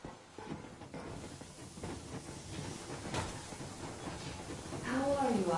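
A steam train pulls away in a video game with a broad, steady hiss of escaping steam and rumbling movement that grows louder toward the end, with a short squealing tone at the close.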